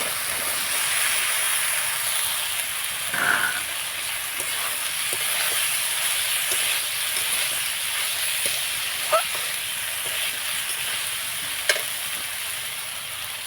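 Boiled potatoes and figs sizzling in a pan during an egg and fig dish, a constant hissing fry with a few faint stirring knocks, close and without talk.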